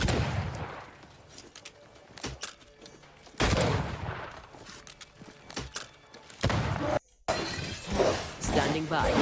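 Loud gunshots and shattering impacts in the video game Banishers: Ghosts of New Eden, several heavy broadband bursts at irregular intervals with a brief drop to silence, a voice speaking at points.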